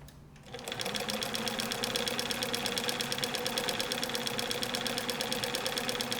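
A restored vintage Bernina 730 Record sewing machine starts up and stitches continuously, giving a fast, even mechanical whir and clatter that holds steady and close after a brief quiet start.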